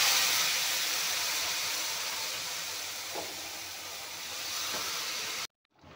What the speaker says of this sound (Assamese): এয়া চাওক অলপমান উতল আহিব দিছোঁ।